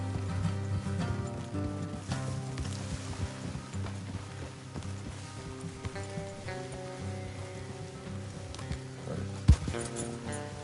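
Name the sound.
horses walking in Red Dead Redemption 2 video game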